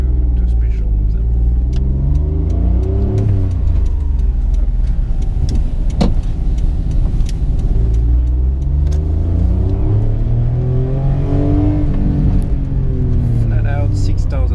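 A 1997 Honda Acty Street van's small engine revs hard toward 6,000 RPM, a loud, sustained buzzing drone with rising and falling pitch sweeps, heard up close while someone talks over it.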